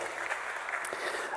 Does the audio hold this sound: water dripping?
no